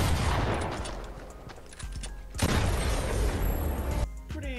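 Rapid automatic AK rifle fire in a video game, a dense sustained fusillade of loud close shots with a brief lull in the middle before another heavy burst and a final tail.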